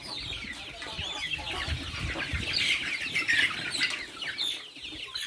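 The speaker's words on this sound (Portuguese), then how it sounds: "Aqui é o frango, os frangos de granja, ó." Farm broiler chickens at a country property clucking steadily, with a dense, continuous chatter of many birds at moderate distance, busy and overlapping, with no voices.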